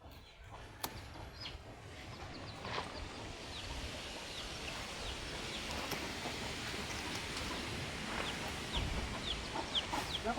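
A chicken clucking outdoors on a farm, with faint, scattered clucks over a steady rushing background.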